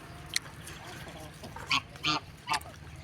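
Geese and ducks in a backyard give a few short honking calls, three or four clear squawks near the end over a low background hum, with a faint voice at times.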